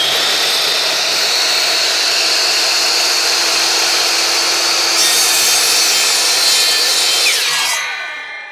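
A miter saw with a laser guide slices through baseboard trim, a loud steady whining cut that holds for about seven seconds, then winds down as the blade spins to a stop.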